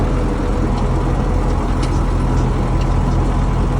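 A tractor engine runs steadily from up close while moving hay bales toward a gate, a loud, constant mechanical drone with no speech over it.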